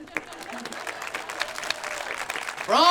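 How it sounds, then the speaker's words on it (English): An audience claps steadily at a Treasure Valley poetry slam event, with dense broadband applause running throughout and a brief voice rising loudly over it near the end. "I'm still clapping."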